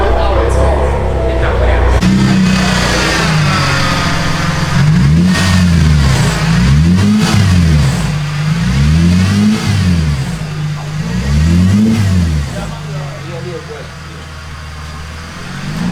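A Mercedes SLK 350 with a loud aftermarket exhaust blips its throttle in a run of six or seven sharp revs that rise and fall, close to the microphone and loud, with a steady idle between them and voices in the background.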